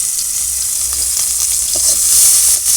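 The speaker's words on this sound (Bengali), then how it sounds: "পেঁয়াজটা হালকা করে একটু ভেজে নেবো" Chopped onions, lightly salted, sizzle steadily in hot oil in a pan, a continuous close frying hiss with faint stirring clicks and no talk.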